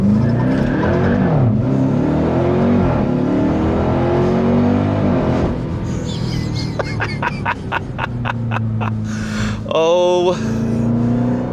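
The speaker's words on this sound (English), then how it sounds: "listen to that supercharger whine" A 2026 Dodge Durango Hellcat engine revs and accelerates with a rising supercharger whine, loud and close, followed by quick revving bursts; a voice briefly speaks.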